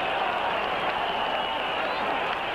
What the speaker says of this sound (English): this crowd again has come to life here